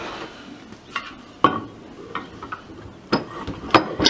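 A thick-oiled vise slide on an old Rock Island vise going into the vise body, a series of close metallic clicks and scraping knocks, uneven and fairly sharp.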